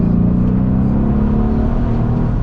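A rear-wheel-drive Mercedes E63s engine roars loud and close in a sustained, steady rev, its deep droning rumble filling the moment without any voices.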